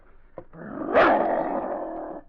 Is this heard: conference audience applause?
no